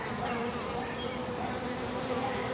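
Bees buzzing close by near flowers, a continuous loud droning hum with no pauses, heard alone with no talking.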